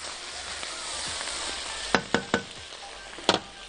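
Fried freekeh with sausage sizzling steadily in a pan, then a few quick scraping knocks as it is turned, close up and without speech.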